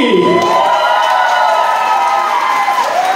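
A crowd at a celebration erupts in loud, sustained cheering and whooping, voices rising and blending together in a continuous roar with some clapping mixed in.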